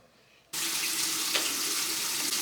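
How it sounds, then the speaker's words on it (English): Tap water switches on abruptly and runs in a steady, close, full-bodied rush into a sink while hands are washed beneath it, continuing unbroken to the end. "Wash your hands always."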